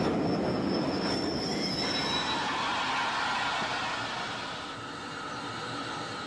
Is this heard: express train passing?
yes